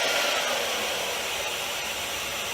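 A GHD hair dryer running on its full setting gives a steady, loud, broadband whooshing roar that holds constant throughout, with no voices.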